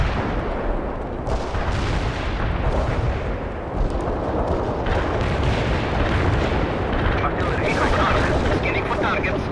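Artillery strike in the real-time strategy game World in Conflict, a sustained loud barrage of booming explosions and crackling impacts rolling on continuously, with radio-style voices talking over it.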